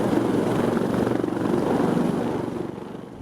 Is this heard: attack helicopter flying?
yes